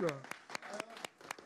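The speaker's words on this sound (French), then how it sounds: "Zé, on applaudit," A live radio show audience clapping in a community venue, with sparse, irregular claps from a handful of hands and a voice speaking briefly at the start.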